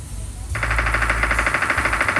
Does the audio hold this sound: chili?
no